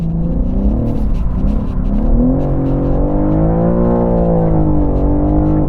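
BMW M3 Competition engine droning steadily on a track, a throaty, continuous note rising and falling in pitch with throttle, close and loud throughout with no talk.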